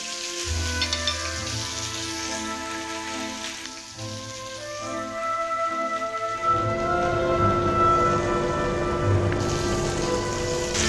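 Hairtail fish pan-fries over medium-low heat, giving a steady, even sizzle throughout that holds at a constant level with no talking.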